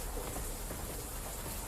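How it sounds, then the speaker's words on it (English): Steady, dense rain hiss in a Call of Duty style video game trailer, a continuous wash of falling rain alone with no talk. "Although those rain effects are impressive."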